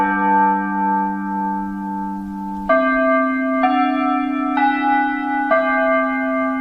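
A Japanese school bell plays a slow chime melody of five clear, sustained tones stepping in sequence, each ringing on and overlapping the next, with no voices.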